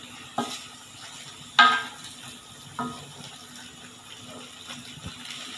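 Kikil, beef skin cooked Aceh style with green chillies, stirred in a pan with salt and seasoning: three sharp scraping clinks of the spoon against the pan over a faint sizzle, close and fairly quiet, with no talk.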